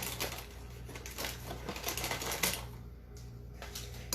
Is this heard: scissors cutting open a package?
yes